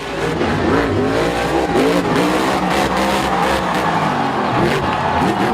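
A toy monster truck gives off a loud, continuous engine revving with racing-style acceleration and tire squeals, sounding close and unbroken throughout.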